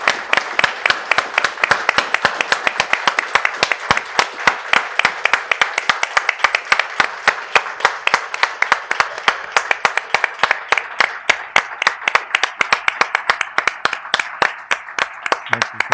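Rhythmic audience applause after a talk remembering the Meredith Victory and the Heungnam evacuation, sharp claps falling in a fast regular beat, loud and close, continuing steadily throughout.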